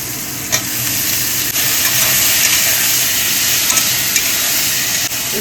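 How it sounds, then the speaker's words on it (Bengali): Dry red chilies, black cumin, potatoes and eggplant frying in oil, a loud, continuous close sizzle and hiss with a few faint clicks from stirring, and no talking. "শুকনো লঙ্কা দিয়ে দিচ্ছে তেলে কালো জিরা শুকনো লঙ্কা আর আলু আর বেগুন"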